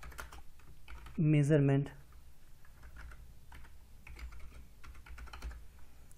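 Quick, crisp keystrokes on a computer keyboard while HTML heading tags are typed for a registration page. The tapping runs steadily through the clip, and a voice briefly breaks in near the start.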